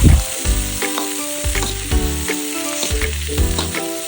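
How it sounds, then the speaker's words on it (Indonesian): Lemongrass and lime leaves sautéed in a pan while cooking spicy-sweet soy chicken intestines: a steady, close sizzle with rhythmic stirring scrapes, no talking. "Di sini aku tumis sebentar serai dan daun jeruknya sampai mengeluarkan aroma wangi."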